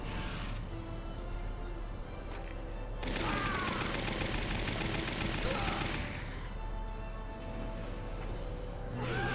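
Gunfire rattling through a Valkyria Chronicles battle, a dense sustained burst of rapid shots over a continuous loud wash of game noise, with a brief break in the middle before the firing and rumble resume.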